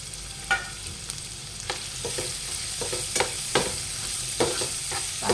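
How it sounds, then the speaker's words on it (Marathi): Onions fry in hot oil with a constant crackling sizzle, broken by sharp scraping clicks as a spoon stirs them at irregular intervals, close and fairly loud with no talking. "लाल होईपर्यंत आपल्याला छान फ्राय होऊ द्यायचे"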